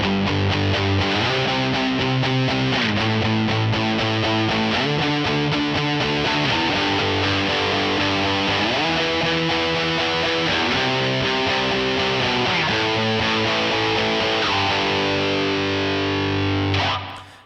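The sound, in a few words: electric guitar with Vermin distortion patch on Line6 POD GO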